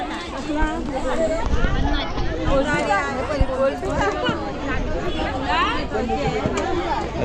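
Busy chatter of many voices at a local fish market in Konkan, overlapping and close, with scattered knocks and thumps under the steady hubbub.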